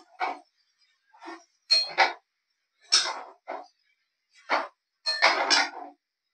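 Veg chowmein being tossed and mixed in a pan with soy sauce, giving a series of short clattering scrapes and clinks of utensil against metal, in irregular bursts with brief pauses, fairly close.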